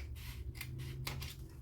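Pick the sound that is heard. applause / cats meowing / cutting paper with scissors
cutting paper with scissors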